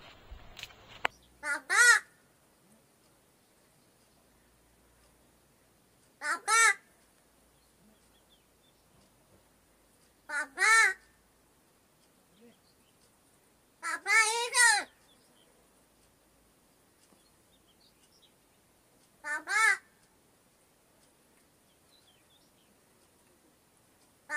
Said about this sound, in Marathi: तो कावळा कसा बोलतो आणि काय काय बोलतो